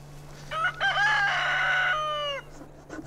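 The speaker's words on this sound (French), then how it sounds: "Le coq, lui, peut enfin se remettre à chanter." A rooster crows once at a nomad camp in Morocco's Djebel Saghro, one long, loud, close call that rises and then holds its pitch. Another bird is faintly audible near the end, over a low steady hum.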